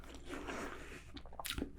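Biting into and chewing an apple up close, a soft run of wet, crunchy mastication that ends in a sharper bite near the end, quiet and alone without talk.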